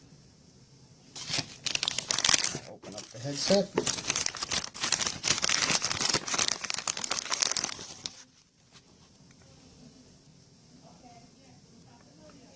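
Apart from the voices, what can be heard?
plastic bag crinkling while unpacking headphones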